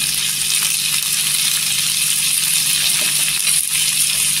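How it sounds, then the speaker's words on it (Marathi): Green chillies fry in hot oil for Kolhapuri thecha, a loud, close, steady hiss and sizzle with faint crackles and no voices. "आणि तेलावर परतून घ्यायचं"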